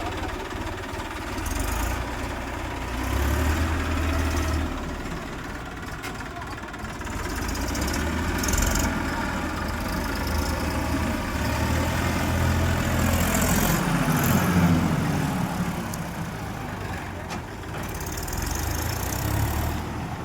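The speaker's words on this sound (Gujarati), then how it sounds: "પોતપોતાનું ટ્રેક્ટર ચાલુ કરી દો" Low, rumbling engines idle and run steadily throughout, the droning rising slightly in the middle, with faint voices in the background.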